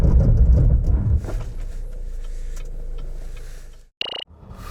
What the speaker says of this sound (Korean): 자, 이번에는 캐딜락 XT4 제동 능력은 어떤지 한번 볼까요?